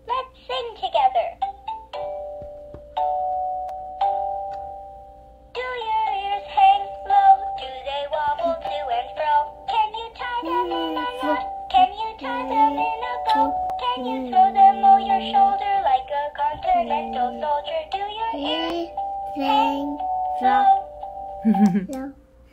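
A Baby Gund Flappy the Elephant plush toy plays a tinny electronic sung melody with bright toy-like tones, steady and close, while a person speaks briefly alongside it.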